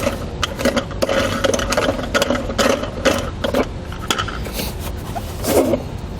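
A fastener being loosened on an interior panel of a 2017 Chevrolet, heard as a series of close, quick ratcheting clicks and mechanical clinks in uneven bursts, no voices.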